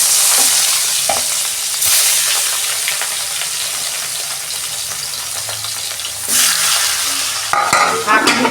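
Fish frying in hot oil in a wok produces a loud, continuous hiss and crackle with bursts of spattering, surging again toward the end as pieces shift, no voices over it.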